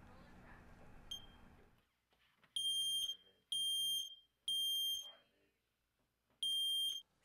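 A household smoke alarm sounds in a quiet room, emitting four loud, piercing beeps in a steady repeating pattern with short gaps between them, after a brief stretch of muffled background noise.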